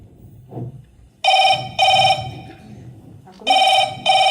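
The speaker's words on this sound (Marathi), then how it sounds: "ब्रह्मे मॅडमचा फोन" A telephone rings in repeated bursts of a bright electronic tone, two rings, a pause, then two more, loud and close in an otherwise quiet room with a faint murmur before it.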